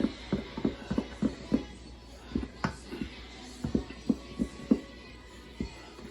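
Challah bread dough is stirred in a bowl with a rhythmic series of soft, close knocks and creaks from the utensil, evenly spaced and fairly quiet.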